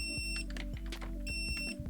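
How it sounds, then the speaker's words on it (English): Short electronic beeps from a basic continuity tester's buzzer sound in a quick, uneven run of bursts, close and fairly loud. "you can see them button presses are enough for it to actually activate the buzzer in there"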